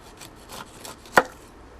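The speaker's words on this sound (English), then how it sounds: "this is where the cleaver is really helpful" A cleaver slicing the skin off a pineapple on a chopping board, a few soft scraping strokes followed by one sharp, close chop standing out clearly, with no talk.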